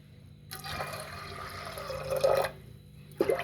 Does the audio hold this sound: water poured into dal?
yes